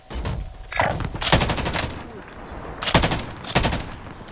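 Gunfire in Call of Duty Warzone during a Verdansk trios match, several bursts of rapid shots, some close and sharp, others more distant.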